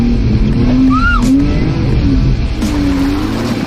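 A 4X4 engine revs on a steep off-road hill at a 4X4 park, a steady, loud, close drone with a brief pitch rise partway through, then holding at a strained level.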